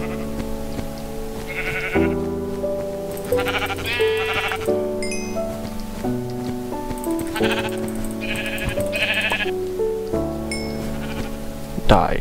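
Minecraft sheep bleat several times in short, wavering cries amid game sounds, with tonal chimes and effects between them and someone talking over parts of it.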